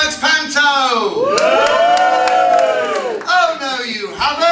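A panto theatre audience cheers and whoops loudly in a sustained burst, many voices shouting together, swelling in the middle and then briefly easing before rising again.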